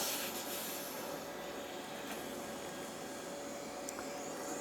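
Steady broadband hiss of a TIG welding arc on a car firewall and battery box metal, continuous and fairly quiet with no talk, holding evenly for a few seconds.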